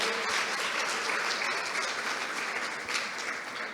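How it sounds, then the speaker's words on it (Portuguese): Sustained applause fills a prayer gathering, steady and dense from start to end, with no talk over it. "vamos aplaudir ao Senhor"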